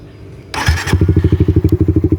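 Suzuki Raider 150 Fi motorcycle fires up with a sharp blip, then settles into a loud, close, rapid pulsing engine beat.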